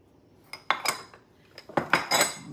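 A metal utensil clinks and scrapes against a bowl while salad dressing ingredients, including oil and salt, are mixed, with irregular bursts of stirring taps that grow busier toward the end.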